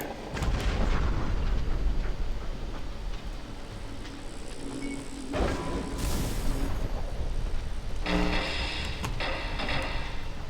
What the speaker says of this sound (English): Let's explode the bleeder again.